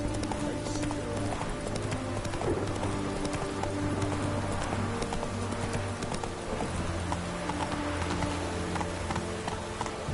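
Roach, a horse in The Witcher 3, gallops with rapid rhythmic hoofbeats in a steady clip-clop over a background game music bed, the hooves close and continuous throughout.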